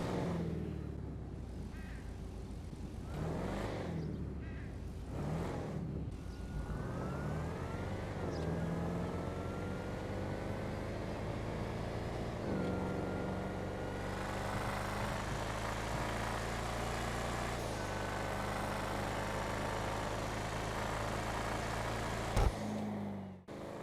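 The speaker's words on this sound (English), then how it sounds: "Amazing sounding, you know, effortless V8 sound. It does sound a bit like it's knocking at the high rev ranges" A supercharged V8 in a Buffalo STX from GTA Online revs and accelerates, its engine note sweeping up through the gears in a loud, continuous drone with a slight knock at high revs.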